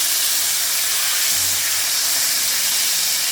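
Food simmering on low heat in a hot pan for a Cajun recipe gives off a steady, broad hiss with no break, close and fairly loud.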